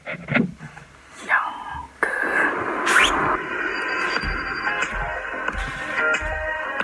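A Turkish pop song plays back, with a female vocal and full backing that swells after a brief, sparse opening and then holds steady at moderate loudness.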